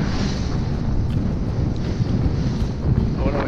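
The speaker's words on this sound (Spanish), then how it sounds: "Vamos directos al viento, un asco." Strong wind buffets the microphone aboard an Island Packet 40 sailboat heading upwind, a constant low rumbling roar with gusty swells and a faint water wash beneath.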